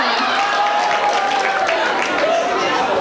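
An audience applauds steadily at a school dating-show event, a dense sustained wash of clapping with some crowd noise and a faint whistle-like tone running through it.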